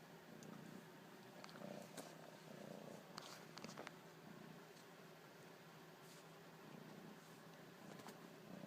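A cat purring close to the microphone, a soft continuous rumbling purr with rhythmic breathing cycles, fairly quiet throughout with a few faint clicks and rustles.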